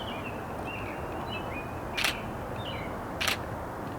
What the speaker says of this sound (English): here's some examples of some shutter speeds.